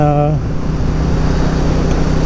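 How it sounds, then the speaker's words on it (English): Steady broadband wind roar buffeting a microphone, loud and constant, with a brief voice-like hum at the very start. "It's a little windy outside, so you're gonna probably hear some of that"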